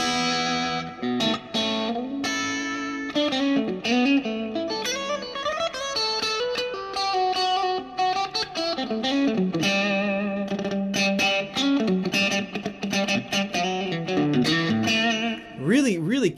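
Electric guitar with two humbuckers in split-coil mode through light overdrive, giving a bright, Strat-like lead tone; a continuous melodic line with bends and quick runs, played loud and alone.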